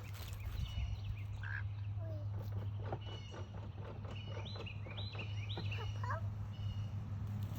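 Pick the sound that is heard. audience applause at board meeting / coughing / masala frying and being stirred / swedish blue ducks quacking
swedish blue ducks quacking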